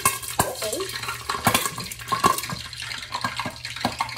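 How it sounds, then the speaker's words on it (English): Water sprinkled into hot frying grease for chicken nuggets crackles and spits in sharp, irregular bursts, close and moderately loud, over a steady low kitchen hum. "just sprinkle a little water in it, then I'll know if it's hot"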